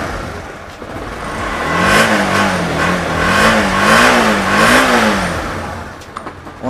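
A Honda CBR K45 motorcycle engine revs up and holds in a few rising and falling pulses, loud and close, then settles back to a smooth idle.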